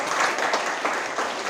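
Applause from students at SMP Negeri 2 Kuta school assembly, a brief burst of dense, steady clapping heard close and evenly throughout with no talk over it.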